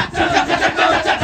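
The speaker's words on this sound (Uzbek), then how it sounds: "Raqqoslar xuddi shunaqa ritm ostida musiqiy instrumentlarsiz kechak degan ovozni qayta aytishadi" Balinese Kecak dance chant, a large group of performers vocalizing rhythmically without instruments; a dense, loud wash of many voices pulsing in steady repeated beats throughout.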